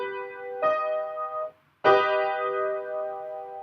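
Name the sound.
augmented chord played on an out-of-tune piano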